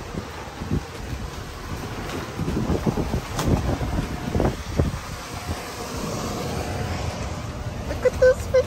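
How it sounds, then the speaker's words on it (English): Wind blows outdoors at a plant shop, a steady rumbling gust buffeting the microphone with bursts of louder blowing throughout. "The wind, baby."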